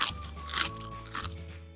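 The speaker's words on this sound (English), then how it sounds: "Listen to that crunch." Crispy Vietnamese bánh xèo sizzling pancake bitten close up, giving two or three loud, brittle crunches with chewing between them.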